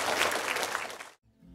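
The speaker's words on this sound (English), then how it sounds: "Let's give Lord a clap." A church congregation applauds for the Lord during a sermon service, a dense burst of many hands clapping for about a second before cutting off abruptly into a low hum.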